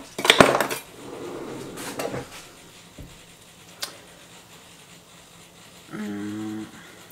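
A knife cuts through a saucisson on a board, giving a loud burst of scraping and crunching at the start, then a few sharp knocks and clicks, and a short buzzing rattle near the end.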